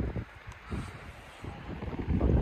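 Gusty wind blows across an exposed mountain ridge in the Beskids, a steady rushing roar with buffeting surges that swell louder toward the end, with no talking.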